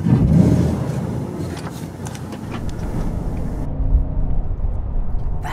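A Porsche 992 911 with a seven-speed manual gearbox drives along, its low engine and road rumble steady and moderately loud from inside, with no talking.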